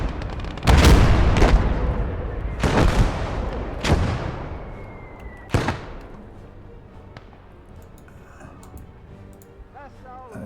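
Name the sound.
mortar fire in the video game Blood Red Snow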